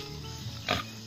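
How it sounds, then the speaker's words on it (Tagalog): A pig on a Philippine farm gives a single short, loud grunt close by, standing out from a low, steady background hum. "Malupit yung baboy ni Nanay Riot ah."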